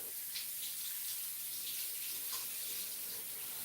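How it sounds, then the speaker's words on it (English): Tap water running steadily into a kitchen sink while fresh, chemical-free garden produce is rinsed of dirt, a soft continuous splashing hiss with no talking. "I will rinse off the outside of it with water because it's got some dirt on it"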